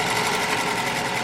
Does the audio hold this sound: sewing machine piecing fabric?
yes